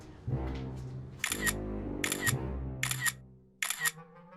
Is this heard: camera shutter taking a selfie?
yes